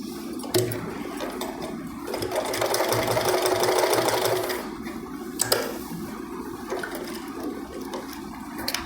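A sewing machine stitching a Punjabi suit whirs in one fast run of a couple of seconds, with quieter handling clicks and knocks before and after.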